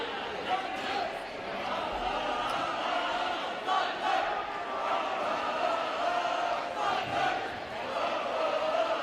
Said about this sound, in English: Tigers crowd is trying to get things going again and inspire the home team on to victory.